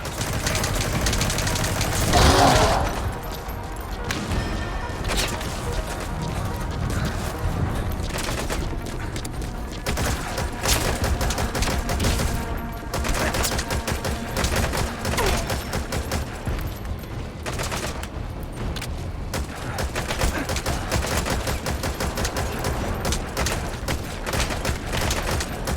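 Loud unsuppressed gunfire in Metal Gear Solid V, a sustained stretch of rapid shots and bursts that runs throughout, opening with a heavy blast and staying dense to the end.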